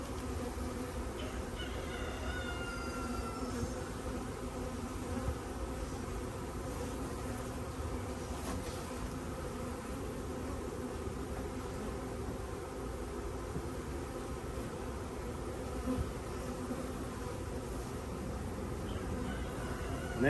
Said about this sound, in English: that's how we install a bee package